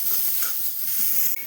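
Sliced onion fries in a pan for a creamy mushroom curry, a close, steady sizzle with soft scraping and stirring strokes running underneath, loud and unbroken.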